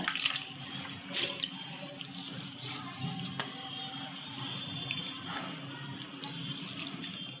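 A pumpkin being washed under running tap water, a faint, steady splashing flow with occasional drips and knocks, quiet and without talking.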